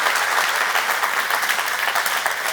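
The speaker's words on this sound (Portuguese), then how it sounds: "Pode aplaudir direito agora." A church congregation bursts into thick, continuous applause, many hands clapping at once at a steady level with no voices on top.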